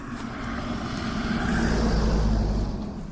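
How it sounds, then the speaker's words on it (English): A car approaching along a quiet country lane on a moorland walk, a low engine rumble and road noise swelling steadily and peaking near the end, with no talking. "Whoops, car coming."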